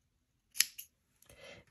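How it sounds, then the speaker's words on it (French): Scissors snip through crochet yarn in a quick double cut, faint and close, followed by a soft rustle. "vous allez couper le fil"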